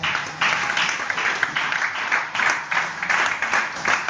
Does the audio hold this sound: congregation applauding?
yes